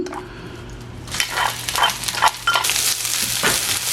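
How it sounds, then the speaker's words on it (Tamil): Fried onions being stirred in a frying pan with oil, for a Jaffna-style sprats fry: close scraping stirs and a soft sizzle, with repeated bursts of scraping after a quieter start. "நாங்கள் பொரிச்சு இறக்கி வச்ச வெங்காயத்தை திருப்பி இந்த தாய்ச்சியில் போடுவோம்."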